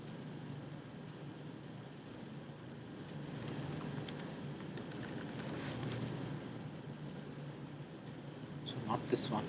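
A burst of quick computer keyboard taps while writing JavaScript code, clustered in the middle and again near the end, faint under a steady room hum with a person talking.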